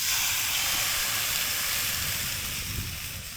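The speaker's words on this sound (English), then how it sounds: "It's got a nice sizzle going." Steak searing in a pan over an open campfire, giving a loud, steady broadband sizzle that runs continuously close to the mic, with no talk over it.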